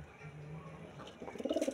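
A large pigeon with striking red eyes coos softly up close, its low rolling calls building louder toward the end after a quiet start.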